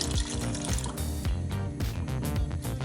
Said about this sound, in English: I'm going to add about another 3/4 cup of water to this as well.